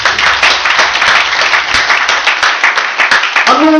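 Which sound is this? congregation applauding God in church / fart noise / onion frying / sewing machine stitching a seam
congregation applauding God in church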